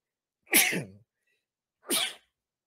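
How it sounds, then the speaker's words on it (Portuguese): Two separate human sneezes about a second apart during a live stream, close and loud, with silence between them. "A gente espirra também."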